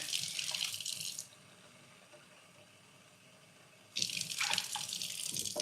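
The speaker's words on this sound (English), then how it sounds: "So I'm going to do a cup of water." A cup of water poured onto jasmine rice in a pot, two close splashing bursts of pouring separated by a quiet pause, with no talking.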